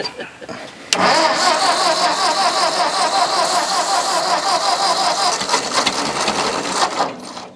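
An old Ford farm tractor engine cranks and catches with a sudden loud start, then chugs steadily at a rough idle, close by, with no talking.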